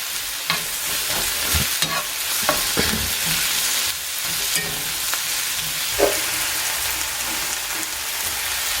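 Tofu scramble seasoned with turmeric and nutritional yeast cooks in a pan, with a continuous close sizzle broken by scraping stirs and soft clicks of the utensil.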